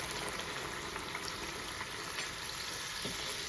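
Fish curry gravy with tomatoes simmering in a pan, a soft continuous bubbling and hiss with occasional small pops, close but faint, with no talk.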